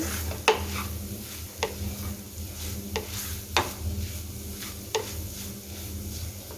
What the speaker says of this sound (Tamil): இந்த தேங்காயில் இருக்கிற அந்த ஈரப்பதம்லாம் போகிற வரைக்கும் நம்ம கொஞ்சம் ட்ரை ரோஸ்ட் பண்ணிக்கலாம்.